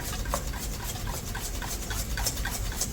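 Steady, brisk whisking of eggs in a bowl set over a pot on the stove, a continuous scratchy rubbing rhythm kept up close and fairly loud throughout, with no voices.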